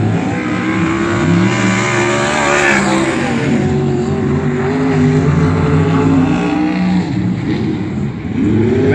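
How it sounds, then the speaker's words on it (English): A fuel-injected small-block Chevrolet engine running on alcohol idles and revs loudly up close, its rough, throbbing note rising and falling continuously. "Fuel injected small block Chevrolet. Running on alcohol."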